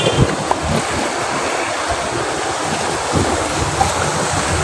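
Turbulent floodwater after heavy rain in Sylhet city rushes with a constant broad roar, steady and close, with wind buffeting the microphone.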